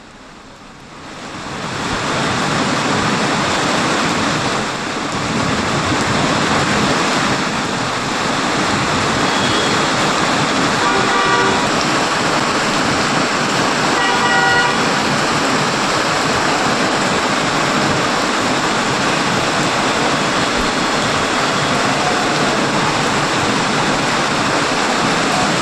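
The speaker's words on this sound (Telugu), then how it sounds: "హైదరాబాద్లో వివిధ ప్రాంతాల్లో వర్షం పడుతోంది." Heavy rain pours over city streets in Hyderabad as a steady, loud, roaring wash of noise that builds in the first seconds and then holds unbroken, with no voices.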